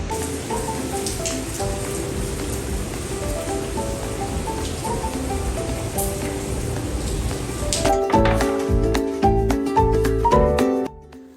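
Heavy monsoon rain pours down in a steady, loud, dense hiss of drops hitting surfaces. Near the end, music-like tones come in over it.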